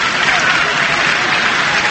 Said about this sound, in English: Brighton's efforts applauded by the home fans